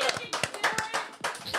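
Production staff at a CAD speedmodeling tournament clap and cheer, with quick overlapping claps and raised voices in a short, lively burst.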